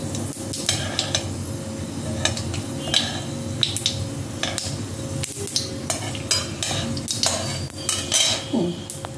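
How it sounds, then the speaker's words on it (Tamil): Mustard seeds and fenugreek sizzle and pop in hot coconut oil for a buttermilk curry. A metal spoon scrapes and clinks against the pan throughout, with no talking. "இந்த மோர் குழம்புக்கு கடுகும் வெந்தயமும் தாளிக்கிறேன்."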